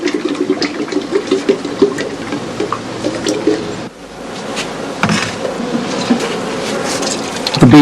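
Honey bees buzz around a hive while being fed a sugar solution made from ordinary sugar and warm water, a dense, steady hum of many insects close by, with a faint voice briefly under it.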